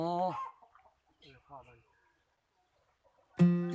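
Backyard chickens raised at home cluck in short harmonic bursts at the start and again near the end, with quieter gaps between. A person speaks in between the calls.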